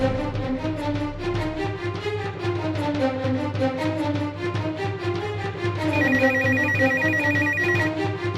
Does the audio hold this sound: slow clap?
no